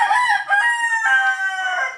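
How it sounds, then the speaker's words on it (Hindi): A rooster crows loudly and close by, one long drawn-out cock-a-doodle-doo with a brief break, ringing clearly on its own without talk. "अरे इस टाइम बांग नहीं देते।"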